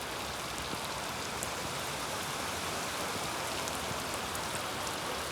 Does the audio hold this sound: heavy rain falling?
yes